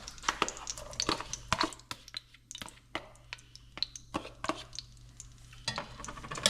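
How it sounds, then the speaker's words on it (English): Chopped onion, scallion, sweet pepper and garlic go into a hot pot for curry chicken, giving a low sizzle broken by sharp clinks and scrapes of utensils against the pot, close by, with no talking. "we also have the onion, scallion, sweet pepper, and garlic all chopped up in it. So we're just gonna add it to the pot"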